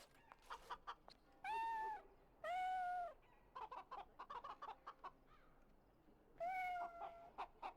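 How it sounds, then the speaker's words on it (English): A cat in the video game Dragon Age: Origins meows three times, drawn-out and clear, amid short clucking bird-like game sounds, with no talk. "There's a cat somewhere that needs a pet. Oh yeah, I can hear it."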